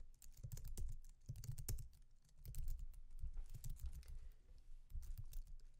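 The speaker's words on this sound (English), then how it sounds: "type ln and s, and then go ahead and write out that whole command." Fast, continuous clicking of keys on a computer keyboard as a terminal command is typed, soft and close with brief pauses between bursts of keystrokes.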